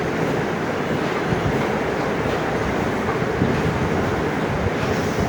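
Spice paste mixed in water is poured into hot oil in a kadai, producing a loud, steady broadband sizzle that holds evenly throughout with no talking.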